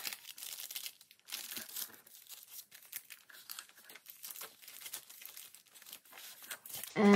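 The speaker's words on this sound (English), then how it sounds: "I have another paper bag." A paper bag crinkles and tears in close, steady bursts of dry rustling, crumpling on and off throughout the stretch while junk journal pages are assembled, with no voices present.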